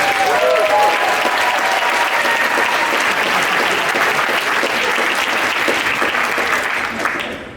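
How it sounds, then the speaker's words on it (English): A lecture audience in Los Angeles gives loud, dense applause that holds steady for several seconds and then tapers off near the end, with a faint murmur of voices mixed in. "Only here can I get applause for beans."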